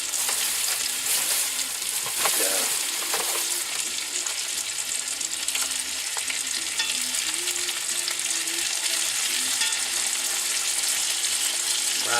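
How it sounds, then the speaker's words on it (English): Ginger and meat browning in olive oil in a cast iron skillet give a steady, close, even sizzle that runs without a break, with the occasional stir or scrape. "Right now I'm just browning."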